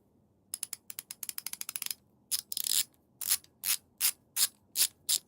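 A 72-tooth ratchet wrench clicking close up: a fast run of crisp ratcheting clicks, then a broken burst, followed by slower, evenly spaced individual clicks.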